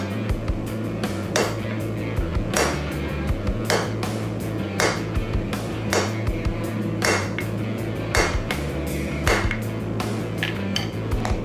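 A hammer strikes hot square steel stock on a big anvil while a leaf is forged, giving a steady series of sharp, ringing metallic blows close by, with no talk.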